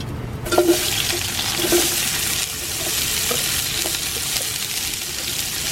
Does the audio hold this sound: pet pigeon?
no